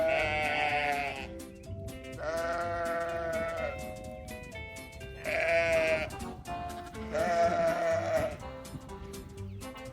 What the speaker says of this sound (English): So I raise Katahdin sheep, and even though they've already been fed this morning, they kind of think it's time to eat again.